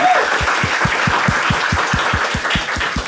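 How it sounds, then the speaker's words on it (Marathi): A stand-up comedy crowd applauds for two people, a loud wash of clapping with a strong steady rhythmic beat running under it. "एकदा टाळ्या वाजवा दोघांसाठी"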